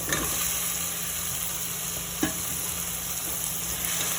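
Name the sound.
hearts of palm being added to sautéed onion, garlic and tomato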